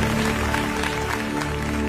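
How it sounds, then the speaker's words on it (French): Audience applause, a dense, even wash of clapping at constant loudness with a steady tonal hum or music sounding underneath. "great round of applause for"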